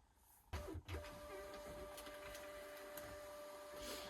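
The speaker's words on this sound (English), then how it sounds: "while that is printing" A printer runs nearby as it prints a shipping label, starting with a mechanical clunk and then a steady motorised whir with a high whine that continues to the end, fairly quiet and with no voices.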